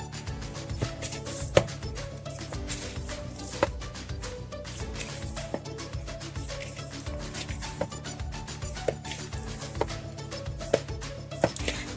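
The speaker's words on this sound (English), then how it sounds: "Now let's just punch it and knead it for a few seconds." Risen pizza dough for a paneer pizza being punched down and kneaded by hand on a surface, a steady run of soft dull thumps and pats, close and alone.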